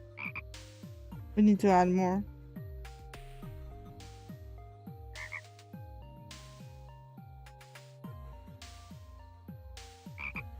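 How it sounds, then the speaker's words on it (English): Croaking of a frog in the zombie roguelike video game Reclaim The Living, a series of quick repeated croaks over a bed of tonal game sounds, with a short bit of talk near the start. "It is the frog. The one and only frog."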